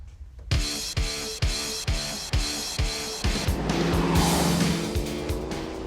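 A V8-swapped stock Jeep JK Wrangler on stock-size tires revs hard in a string of rhythmic engine pulses, then its tires squeal in a sustained screech as it accelerates, loud and close.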